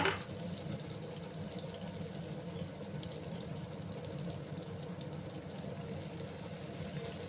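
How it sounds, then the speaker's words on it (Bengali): Water from a rinsed bowl is poured into a cooking pan on low heat, giving a steady close liquid rush after a brief splash at the start. "বাটিটা ধুয়ে আমি জল অ্যাড করে দেবো।"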